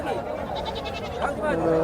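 Goats bleat in a busy goat and sheep market in Sangola, several calls overlapping, with people chattering and talking nearby.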